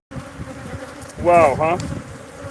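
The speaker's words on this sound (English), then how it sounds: "I want to show you what angry bees, killer bees look like." An angry swarm of killer bees drones in a steady, close buzz. A person briefly exclaims over it partway through.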